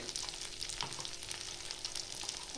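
Green chillies and turmeric fry in hot oil with ginger for a vegetable chop filling, a close, steady crackling sizzle with light stirring and no voices.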